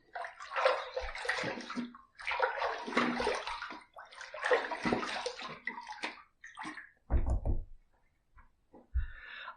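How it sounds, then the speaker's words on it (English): Running tap water rinses a Supply Pro adjustable injector razor in three close, splashy bursts of a second or two each, followed by a couple of short knocks against the sink, with no voices. "Let's rinse."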